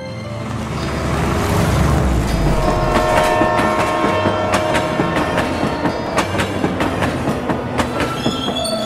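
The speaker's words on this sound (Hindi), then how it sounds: "ट्रेन हवा से बातें करती हुई उनको गांव के स्टेशन पर पहुंचा देती है।" A train running fast on the rails gives a loud, steady roar with rhythmic clickety-clack wheel beats and some high metallic squeal, with no talk.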